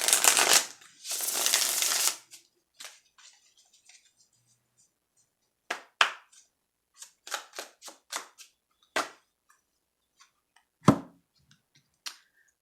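Oracle cards being shuffled: a loud riffling burst at the start, then scattered sharp card slaps and taps with quiet gaps between them, close and without speech.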